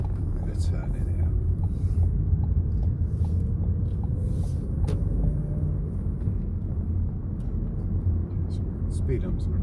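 A car moving slowly through speed humps at a crossing area, heard from inside as a steady, close low rumble of engine and road noise that holds evenly throughout.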